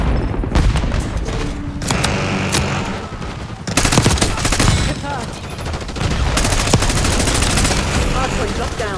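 Rapid bursts of loud automatic gunfire in a Call of Duty game, close and dense with booming impacts, running almost continuously under game voices.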